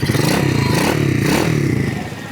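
A Walton 100cc motorcycle, modified in Royal Enfield Hunter 350 style, runs steadily just after starting, its close, loud engine throbbing with a rapid even pulse and slight rises in revs.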